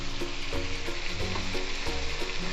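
Loud continuous sizzling and bubbling from a hot pan as a glass of water hits frying mutton for karahi, with faint stirring clatter and no voices.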